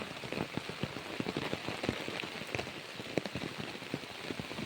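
A steady downpour of heavy rain falls outdoors in the countryside beside a fence line, with dense close hiss and sharp individual drop splats pattering throughout.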